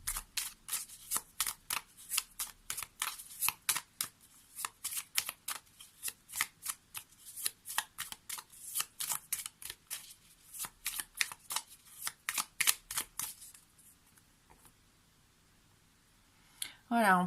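Lenormand cards shuffled by hand in a quick, steady run of crisp riffling slaps, close and clear, lasting around thirteen seconds before stopping, then a brief rustle at the end.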